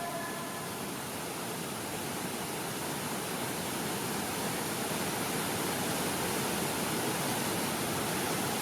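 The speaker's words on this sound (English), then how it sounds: "The Quang Si waterfalls are a miracle of nature and a magnet for visitors." Quang Si waterfalls in Laos, a steady, dense roar of falling water rushing without pause, loud and continuous throughout with no voices.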